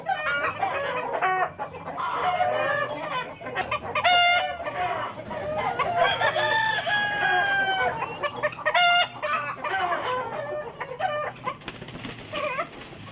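Hens cluck and a rooster crows at a teaching farm near Assisi, close and loud with overlapping calls throughout.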